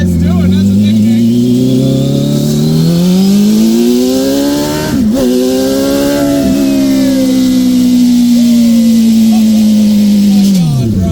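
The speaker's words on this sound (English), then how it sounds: "Bro, it sounds like a race car already." A microcar fitted with a crotch rocket motorcycle engine revs hard and accelerates, its loud, close, rising and falling whine sweeping up through the gears, with a brief dip partway through and people talking excitedly over it.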